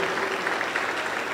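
A brief burst of church congregation applause, a dense wash of clapping lasting just over a second, moderately loud with no voices on top.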